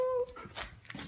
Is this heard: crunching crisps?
no